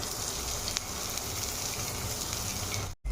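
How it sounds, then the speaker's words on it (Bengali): Chopped onion frying in hot oil for a potato and green banana dish: a steady, close, even sizzle with faint crackles, cutting off abruptly near the end. "দেখো আমি পেঁয়াজটা দিয়ে দিচ্ছি"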